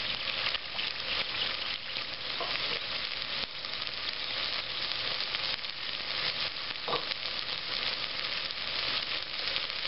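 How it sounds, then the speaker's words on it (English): Onions sizzling in a pot while cooking down for green chili soup, a steady, soft frying hiss that continues evenly throughout with faint occasional clicks. "I have sweated the onions until they're nice and soft."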